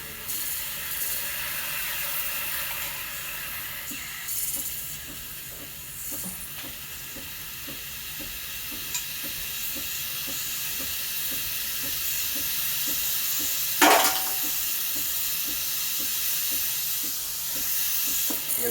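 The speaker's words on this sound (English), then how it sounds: "going to turn on the steamer now. It'll take about 10-15 seconds." A Breville Barista Express BES870 espresso machine's steam wand hisses continuously, a steady breathy rush with a faint rhythmic pump pulse underneath and a brief sharper burst partway through.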